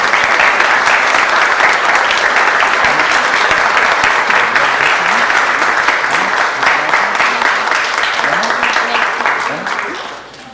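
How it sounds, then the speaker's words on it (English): Sustained applause from an audience at a city council and housing authority meeting, a dense continuous clatter of many hands that holds steady for about nine seconds before tapering off at the end. "please join me in giving them a big round of applause for all the great work that they do"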